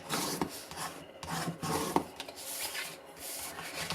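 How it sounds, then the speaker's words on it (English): Soft, repeated rubbing strokes of a burnishing tool pressed along score lines on a paper box, in short uneven passes with brief pauses, close up and quiet, no talking. "So burnish your score lines."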